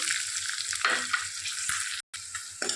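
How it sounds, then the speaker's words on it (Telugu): Onions fry in oil with cumin, tempering spices and green chillies, a close, bright crackling sizzle that runs continuously, broken by a brief gap of silence near the end, with no voices. "ఇవి గోల్డెన్ కలర్లో వచ్చేంత వరకు వేయించుకుందాం"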